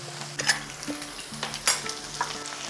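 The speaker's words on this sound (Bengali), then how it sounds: "এইভাবে যদি মাছটাকে কোটিং করে ভেজে নেওয়া হয়, তাহলে মাছটা ভিতর থেকে খুব সুন্দর নরম থাকবে" Coated pieces of rohu fish fry in oil over a medium flame, a quiet steady sizzle broken by a few soft stirring or turning clinks, with a low hum running underneath.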